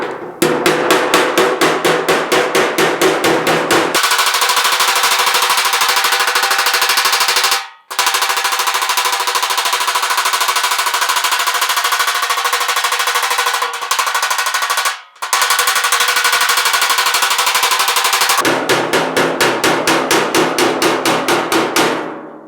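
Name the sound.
hammering car fender against a dolly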